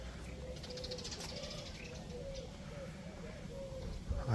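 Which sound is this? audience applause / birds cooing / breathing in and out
birds cooing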